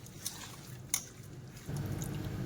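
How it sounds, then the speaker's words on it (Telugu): Tandoori chicken marinade of chilli paste, salt, lemon juice, two spoons of curd, oil and food colour being mixed by hand, heard as faint, soft wet squelches and light dabs that grow a little thicker toward the end. "బాగా మిక్స్ చేయాలి ఇట్లా"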